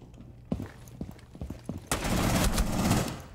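Gunfire in a shooter video game: a few sharp, separate shots ring out first, then a dense, loud burst of rapid fire runs to the end.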